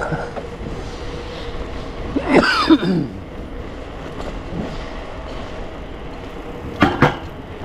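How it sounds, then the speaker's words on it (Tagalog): An elderly smoker's cough during an outing in Singapore, a rough burst followed by a second shorter one, heard over rumbling train-like background noise. "Si Lolo, inuubo na, naninigarilyo pa eh."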